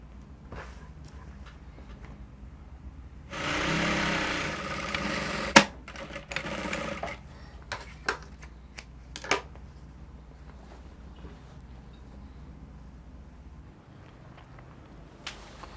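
A sewing machine stitches the side seam of a lining joined to the right side of blouse fabric: one short whirring run of about two seconds, followed by scattered clicks and light handling noises in a quiet room.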